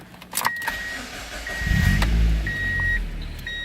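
A 2004 Mazda MX-5 Miata Mazdaspeed cranks briefly and its engine catches and settles into a low idle inside the cabin, with repeated electronic chimes sounding over it.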